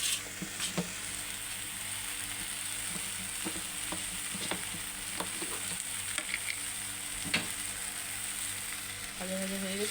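Mango pieces fry in a pan, giving a steady, soft sizzle broken by repeated sharp scraping clicks as a spatula stirs them, heard close up with no voices.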